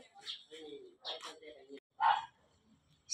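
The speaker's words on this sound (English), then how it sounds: "The four dogs that are always with me." Several dogs out on a walk through a Philippine subdivision bark and yip in short sharp bursts nearby, with someone talking between the barks.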